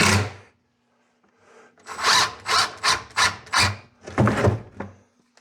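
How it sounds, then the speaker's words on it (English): A power drill backs screws out of wooden shop cabinets in a quick series of six or seven loud, close whirring bursts after a brief opening whir and a short quiet gap. "I'll take these screws out now."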